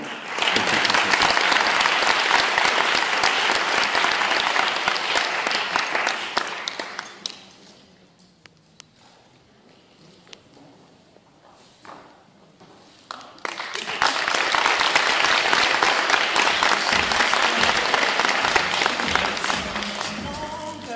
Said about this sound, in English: Let's give these beautiful ladies another round of applause.